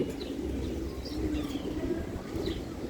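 Racing pigeons, a pair of red birds, cooing in a continuous low murmur with a few higher chirps, fairly close over a steady background hum.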